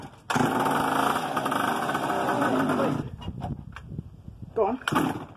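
A mini moto motorcycle's small engine runs at a steady, loud buzzing idle for about three seconds, then cuts out into sputters and mechanical rattles, with a few brief revving bursts near the end.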